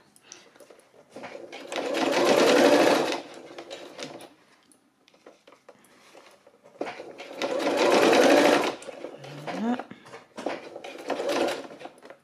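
A sewing machine stitches a seam on high-waisted jeans in bursts of steady, rapid whirring, three runs separated by pauses and small mechanical clicks, close and clear with no talking.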